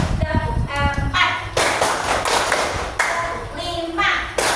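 A classroom clapping game: a group of students claps in short rhythmic bursts, with sharp, loud, close slaps repeating in counted groups while voices call along between the claps.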